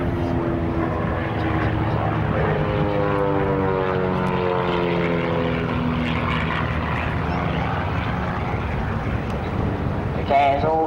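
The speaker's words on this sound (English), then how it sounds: "as all three planes join up again. One of their final manoeuvres." Aerobatic propeller planes fly at the RAF Marham Airshow with a loud, sustained engine drone that shifts pitch as the aircraft pass, while a commentator's voice carries underneath.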